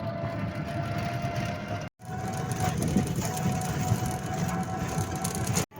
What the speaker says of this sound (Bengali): আমরা স্টেশন যাওয়ার জন্য টুকটুকিতে উঠে পড়ে গেছি।